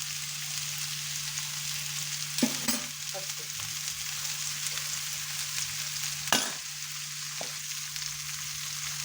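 Ridge gourd peels fry in hot oil with a steady, close broadband sizzle, broken by a couple of sharp utensil knocks and scrapes against the pan.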